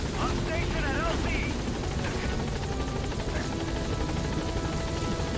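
The Pequod helicopter hovers in Metal Gear Solid 5 as it arrives at a landing zone, a steady loud rotor drone filling the whole stretch, with game voices and chatter over it.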